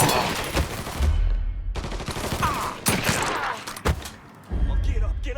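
Heavy gunfire in Mafia 3, bursts of automatic and repeated shots with deep thumps running throughout, loud and close, with voices calling out in between.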